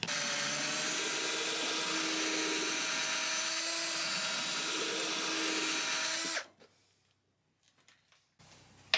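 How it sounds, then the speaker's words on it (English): A power drill bores a hole in the body of a Kay Old Kraftsman single cutaway archtop guitar for wiring, a loud, steady whine that runs for about six seconds before stopping abruptly. "I'm going to use a fairly good-sized bit for the wire that's going to come out of here."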